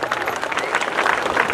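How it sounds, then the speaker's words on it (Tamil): Audience applause greets a physically challenged bodybuilder at a Mr. Tamilnadu competition, steady clapping filling the hall with crowd noise throughout. "நல்ல கைத்தட்டுங்க, உற்சாகப்படுத்துங்க"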